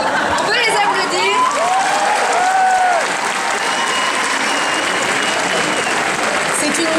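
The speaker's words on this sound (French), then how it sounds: "La mission numéro 22, on peut les applaudir." An audience applauds a youth mission for restoring French cultural heritage at an awards ceremony, steady dense clapping from a large crowd filling the room throughout, with voices and a few calls mixed in.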